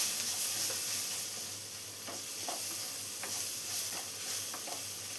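Chopped tomato sautéing in a pan for a ripe-mango buttermilk curry, a steady close sizzle with occasional soft stirring scrapes and no voices.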